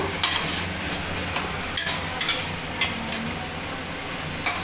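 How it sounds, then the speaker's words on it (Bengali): Ground spices fry in oil in a pan under a constant sizzle, while a spatula stirs and taps against the metal in irregular strokes close by, with no speech. "এবার মশলাগুলোকে আমি ভালোভাবে নাড়িয়ে নেব"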